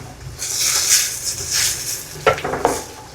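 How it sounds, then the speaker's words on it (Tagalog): Tomatoes pressed and stirred in a pan for sarciadong bangus sauce: a gentle sizzle with soft scraping swirls of a utensil, ending in a couple of sharp clinks against the pan. "Mapirit-pirit po yung kamatis para masarap."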